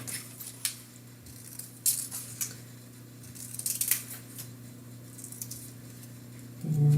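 Sharp scissor snips cutting paper for a letter C crab craft, a handful of crisp irregular cuts close by in a quiet room, ending in a louder rustle.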